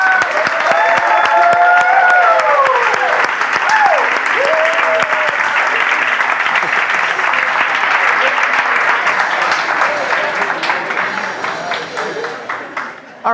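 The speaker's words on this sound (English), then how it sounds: "we'll all stand up and give the warmest rock star applause for Elisenda." Standing audience applause with cheers and whoops fills the room at a tech talk, loud and dense for most of the span before thinning toward the end.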